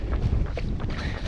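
Strong wind buffets the microphone outdoors during an early morning run as the sun comes up, a loud, continuous rumbling roar with gusty swells throughout.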